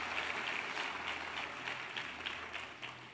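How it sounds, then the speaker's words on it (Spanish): A church congregation claps during a sermon, a fairly faint but steady wash of many hands applauding throughout, fading slightly toward the end. "Denle un fuerte aplauso al Rey de Gloria."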